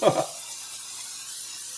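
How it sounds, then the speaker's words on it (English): Cooking spray fires into a baking dish for a baked pasta dish, one short hissing burst at the very start before the sound drops to quiet room tone. "We're just going to spray it in there."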